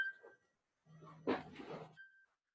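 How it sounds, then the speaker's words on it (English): A mobile phone chimes with a short electronic notification tone near the start and again near the end, steady and clear, with a brief burst of speech-like sound in between during a math lesson on trigonometric identities. "sorry, that was just my phone."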